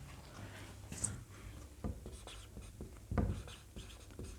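Pen or marker strokes on paper or a board as a mixed-fraction definition is written by hand: faint, soft scratching with a few short louder taps, close and quiet, no voice.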